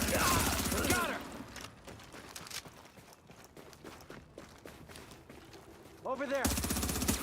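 Bursts of rapid automatic gunfire in The Division, a shooter video game, coming in clusters between quieter stretches, with game voices and a player speaking over the shots.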